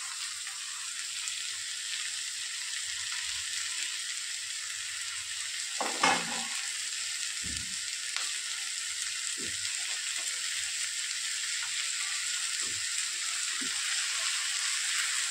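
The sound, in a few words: chopped moringa leaves sizzling and being stirred in a pan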